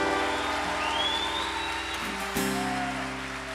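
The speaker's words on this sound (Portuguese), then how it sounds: "dá uma salva de palmas a Jesus" A church congregation applauds in a steady, continuous wash of clapping, with sustained music tones beneath it throughout.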